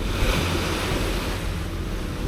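Ocean surf and wind fill the recording in a steady, broad wash off the Amalfi Coast, with no voices or other distinct sounds.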